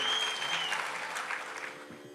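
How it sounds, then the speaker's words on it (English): An audience applauds after a classical music performance at a tribute concert, a dense steady clapping that fades slightly toward the end. "Keep the applause going."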